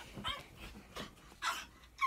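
A dog whimpers and yips softly in a few short, high-pitched bursts, close by and fairly quiet.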